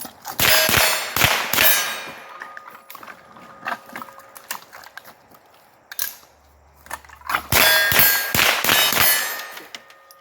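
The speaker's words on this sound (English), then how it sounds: "I'm shooting the steel fairly close here" Rounds from a .22 conversion bolt ring off steel targets at fairly close range, sharp metallic clangs in quick clusters with pauses between, loud and alone without talk.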